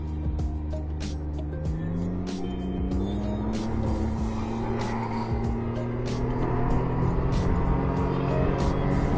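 A Can-Am Ryker three-wheeler with a Rotax engine runs steadily throughout, its engine note rising and shifting in pitch as it pulls away.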